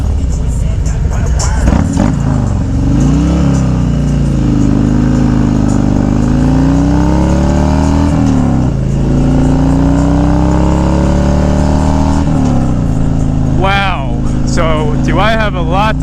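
Harley-Davidson Street Glide motorcycle engine runs loud and steady throughout, its pitch dipping and rising as the bike slows under braking, with someone talking over it and a few sharper high chirps near the end.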